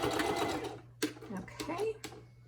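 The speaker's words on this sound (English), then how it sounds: "I'm going to put a stitch in that with a 1/4 inch seam. And I'm going to back stitch." Sewing machine back stitching a 1/4 inch seam on a cotton face mask, short whirring bursts heard close up with a few clicks while a person talks over them.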